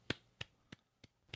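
A quiet golf clap of five soft, evenly spaced claps, slow and deliberate, close by with nothing else around them.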